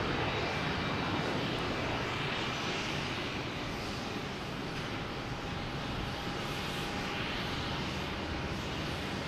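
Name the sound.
Embraer E145 airliner arriving at Boston Logan Airport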